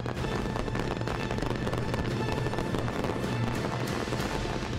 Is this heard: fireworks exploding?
yes